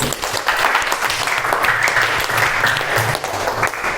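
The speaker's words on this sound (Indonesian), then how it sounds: "Beri tepuk tangan untuk Mas Faris" A room of people claps for a participant after his answer in a group session, a lively, fairly loud burst of applause sustained throughout, with faint voices mixed in.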